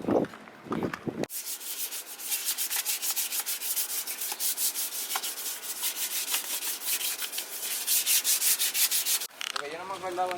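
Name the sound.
sanding a car engine bay with sandpaper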